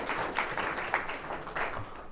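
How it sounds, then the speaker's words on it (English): Audience applause for a keynote speaker at a talk, a brief patch of clapping that stays moderate and fairly sparse before it fades. "Round of applause."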